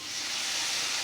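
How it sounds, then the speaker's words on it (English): A hot pan is deglazed with pineapple juice, producing a brief, loud, steady steam hiss, close by with no talk. "Give that a little bit of a deglaze with the juice from the pineapple."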